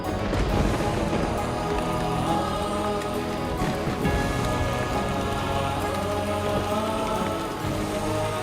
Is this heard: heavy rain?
yes